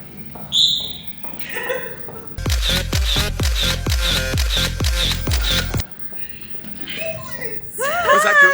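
Rapid burst of about ten mechanical camera shutter clicks taking a selfie, loud and close, between stretches of people talking.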